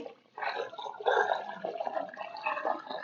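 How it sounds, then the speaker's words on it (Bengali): A full bucket of water poured into a potted plant after repotting with fresh soil, a steady splashing, gurgling pour that runs unbroken for about three seconds, close by. "এবার আমি 1 বালতি পুরো জল দিয়ে দিব"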